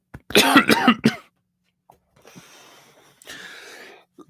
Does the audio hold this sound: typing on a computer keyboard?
no